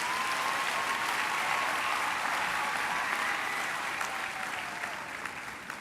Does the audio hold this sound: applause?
yes